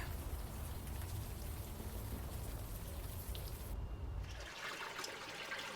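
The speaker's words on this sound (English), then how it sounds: "At least the rain is washing away most of the smell." Steady rain falls in the Unavowed adventure game, a continuous soft hiss of drops with a low rumbling undertone that drops away near the end, no voices over it.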